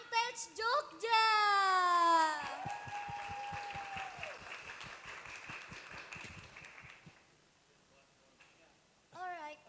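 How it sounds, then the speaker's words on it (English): Audience applause at the Proto-A-Thon 2026 event for Antex Jogja, a loud burst of clapping and cheering with voices and a high whistle-like tone at the start, fading to a sparse patter before a brief voice returns near the end. "give a big applause for Antex Jogja"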